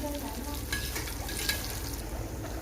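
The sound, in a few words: butter and oil heating in a pan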